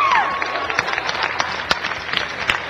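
An audience at a comedy variety act claps in scattered, uneven bursts, individual sharp claps standing out over a crowd murmur and a brief whistle-like tone at the start.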